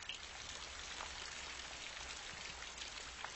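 Steady rain falls as a dense, even hiss of drops, with faint scattered patters and no voices, the same level throughout.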